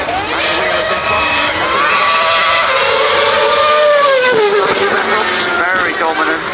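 A 2011 Red Bull RB7 Formula 1 car runs at the Goodwood Festival of Speed, its loud, high-pitched engine note rising and falling steadily, with a crowd and announcer voice blended underneath.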